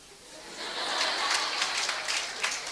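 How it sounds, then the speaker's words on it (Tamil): An audience at a Tamil public speech breaks into clapping. The applause swells from a soft start into a full, steady round of many hands within a few seconds. "கைத்தட்டுகிறீர்கள்"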